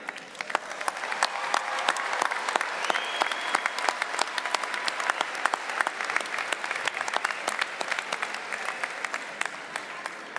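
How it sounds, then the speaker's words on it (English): A university commencement audience applauds its graduates with sustained, dense clapping that fills the space evenly from start to finish, loud and continuous with no pauses. "How about another round of applause for our graduates?"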